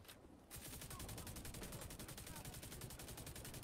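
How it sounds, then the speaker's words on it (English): Rapid, sustained gunfire from the video game Tom Clancy's The Division 2, a dense automatic-weapon burst running steadily for several seconds after a brief quieter lead-in. "I shot that guy, and that guy, and that guy, and that guy."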